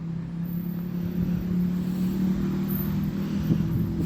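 The postman's car drives away on a village road, heard as a steady, moderately loud engine drone with low rumble and some wind noise and no clear change in distance.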